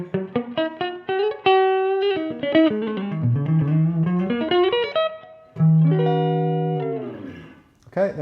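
A guitar played through a Roland JC-40 Jazz Chorus amp with the reverb turned off sounds a quick run of clean picked notes, then sustained ringing chords that fade out, loud and alone.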